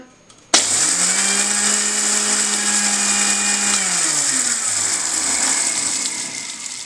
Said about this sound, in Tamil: மிளகாயை மிக்சி ஜாரில் போட்டு அரைச்சிக்கணும்